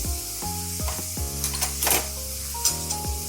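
Ginger paste and spices frying in a pan for Lote fish bhorta, with a continuous sizzle under several scraping stir strokes and faint clinks, close and steady throughout.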